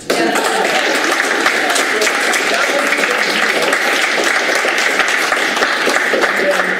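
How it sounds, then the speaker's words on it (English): Audience in a room applauds three performers with a steady, dense roar of clapping that holds at an even level from start to finish, close and loud. "let's give these three a round of applause"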